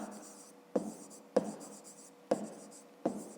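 A pen writes on paper while working a fifth-grade maths exercise, a soft close scratching punctuated by four sharp taps spaced about a second apart, with no talking.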